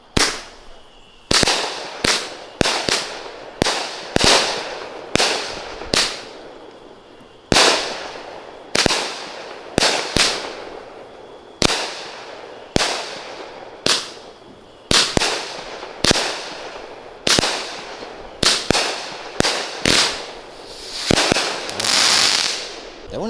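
A Raiden 20-shot firework cake by Fox Fireworks fires a rapid series of sharp, loud launches and bursts, each followed by crackling decay, with a brief pause midway and a denser cluster of shots near the end.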